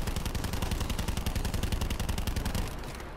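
Rapid automatic gunfire in the video game Call of Duty: Black Ops 4 zombies mode, a loud continuous burst of shots that cuts off abruptly near the end.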